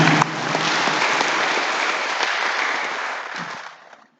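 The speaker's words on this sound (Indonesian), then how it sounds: "Biar lebih semangat, kami mohon aplaus untuk semuanya." Applause from the audience at a village head candidates' debate, a dense burst of clapping that swells quickly, holds steady for a few seconds, then fades out.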